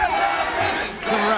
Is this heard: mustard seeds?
no